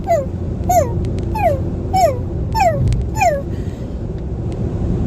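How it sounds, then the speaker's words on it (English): A dog whimpers in a repeated series of high, falling whines, about six in a row, steady and fairly close, over a low background rumble. "My neighbors below me have 2 dogs that I swear they never take care of. And they are constantly whining."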